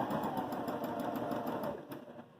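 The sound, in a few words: Baby Lock Jazz II sewing machine sewing zigzag stitch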